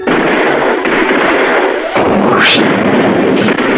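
Cartoon gunfire as guards open fire, a loud sustained blast of noisy bursts with a brief break and a rising whistle-like streak near the end.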